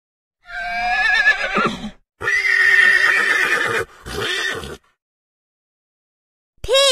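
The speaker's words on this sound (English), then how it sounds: "Horse." Horse neighing in two long whinnies with a shorter third call, loud and close, then a brief rising whinny at the end; no voices.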